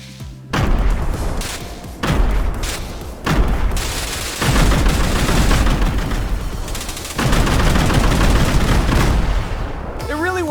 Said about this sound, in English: Weren't kidding around when they called this thing a minigun grenade launcher.